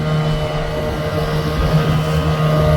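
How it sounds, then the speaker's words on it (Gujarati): A fishing motorboat with two engines, one mounted at the side, runs at sea with a loud, continuous droning engine hum and a steady low rumble. "આ બે મશીન મશીનવાળી બોટ છે"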